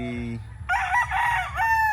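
A low clucking hen is followed by a loud, close rooster crow that holds its strained tone to the end.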